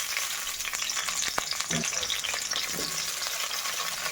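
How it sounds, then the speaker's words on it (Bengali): Cauliflower frying in hot oil in a wok, with turmeric and salt added, gives a continuous dense sizzle with occasional stirring knocks, close and loud throughout. "তেল গরম হলে আমি ফুলকপি ভাজতে দিয়ে দিলাম।"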